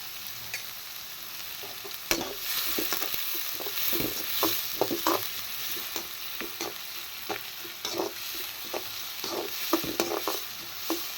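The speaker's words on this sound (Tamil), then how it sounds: "வெங்காயம் வந்து ரொம்ப மொறுமொறுலாம் வர வேணாம் ஆஃப் குக்கு பண்ணால் போதும்" Salted onions sizzle as they fry in a pan, half-cooked rather than crisp. A spatula stirs them in irregular scraping taps over a steady, moderately quiet hiss.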